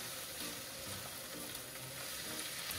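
Cabbage stir-frying in oil in a home kitchen, a faint, steady sizzling hiss with soft crackles, constant and unbroken for a few seconds.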